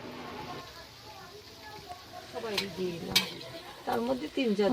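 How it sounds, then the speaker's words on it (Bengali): Luchi fry in hot oil during home cooking for a festival offering, a soft continuous sizzle sitting under overlapping voices that grow louder toward the end. "এবার লুচি ভাজছে"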